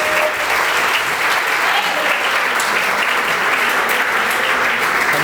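A church congregation gives loud, steady applause during a family worship service, the dense clapping continuing evenly and close throughout.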